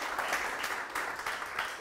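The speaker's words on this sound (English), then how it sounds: "clap for survivors of abuse" Audience applause for survivors of abuse at a talk on masculinity, a steady dense wash of clapping that holds evenly for a couple of seconds with no voices over it.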